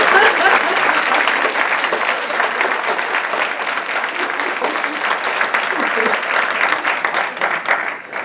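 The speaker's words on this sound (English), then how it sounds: "just applaud her, please" An audience at the NASW-NYC 2015 annual meeting applauds with loud, dense, sustained clapping that holds steady for the whole stretch and eases slightly at the very end.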